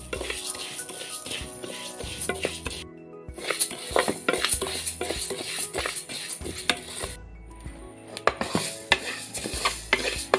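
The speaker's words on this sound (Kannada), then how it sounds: "ಈಗ ಅರ್ಧ ಹಾಕ್ಕೊಳ್ತಾ ಇದ್ದೀನಿ. ಇದು ಎರಡು ಟೈಮ್ ಮಾಡಿ ಹುರ್ಕೋಬೇಕಿದು." Ingredients for sweet laddus dry-roasted in a pan, heard as repeated clattering and scraping of a spoon against the metal pan with light rattling and faint sizzle, close by, with brief pauses between bursts of stirring.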